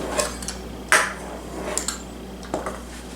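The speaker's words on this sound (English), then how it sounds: "I am cutting right on my countertop" Ham pot pie dough being cut directly on a countertop: a few scattered, light clicking and tapping knocks at uneven intervals, close and fairly quiet, with one sharper clack partway through and no talking.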